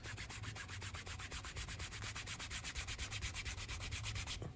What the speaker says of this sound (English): Just go back and forth. Just burnish it up.